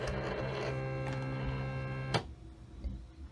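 A Silhouette Cameo cutting machine drawing with a foil quill, giving a steady mechanical hum with whirring motor tones, ending in a short clack followed by quieter faint movements.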